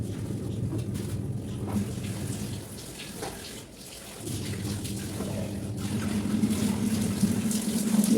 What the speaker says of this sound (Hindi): तो पूरा मैंने पानी से भी धो दिया है।